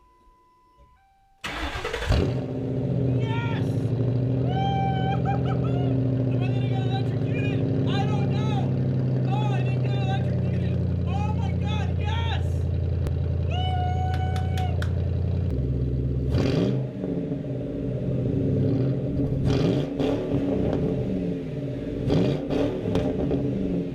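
A Ford Crown Victoria engine starts and settles into a steady, loud idle recorded near the exhaust, then changes tone after about sixteen seconds, with excited speech over it.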